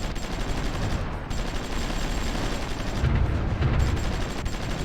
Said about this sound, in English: Come on, artillery, do your job.